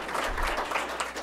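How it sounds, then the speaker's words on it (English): Applause from attendees at a board of education meeting, a moderate, steady patter of many hands clapping in a room, fairly soft and without speech. "can everybody applaud for Adrian?"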